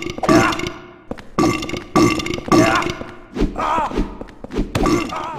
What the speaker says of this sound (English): the incessant, awful burping noise that the patients make